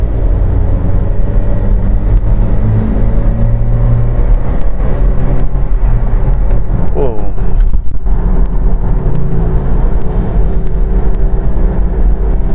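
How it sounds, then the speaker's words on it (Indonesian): A used Toyota Kijang Innova family car accelerates along a busy road in Bekasi, its steady engine drone and road rumble loud and continuous, with speech present throughout. "Oke, kita gas sedikit guys."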